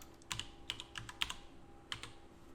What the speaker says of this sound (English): I'm typing with one hand because my right hand's broken